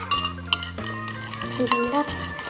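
A utensil stirs a slime mixture in a bowl, making repeated light clinks and scrapes against the bowl while a voice speaks over it.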